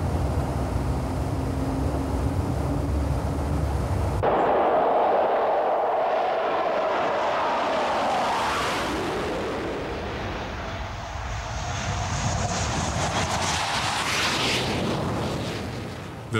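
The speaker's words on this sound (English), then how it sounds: "the aeroplane is pulled out of the shelter and the engine is started during the tow" A Hawker Hunter jet starting its engine while being towed out of a mountain hangar: a loud, continuous roaring rumble that abruptly shifts into a rising, broadband whine and rush, close and powerful throughout.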